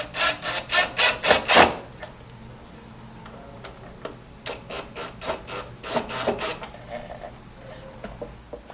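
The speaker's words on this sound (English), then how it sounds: "what we're going to do is drive our 3/4 inch flathead screws" A screwdriver drives 3/4 inch flathead screws into pre-drilled holes in a JSI base cabinet, starting with a quick burst of ratcheting clicks, then quieter intermittent turning and rubbing on wood, close up and without speech.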